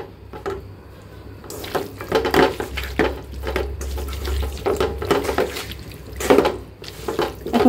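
Silver carp and bitter gourd curry cooking in a pot on a stove with ground garam masala of clove, cinnamon, cardamom and bay leaf, giving steady sizzling and watery stirring with scraping clatter throughout, fairly close.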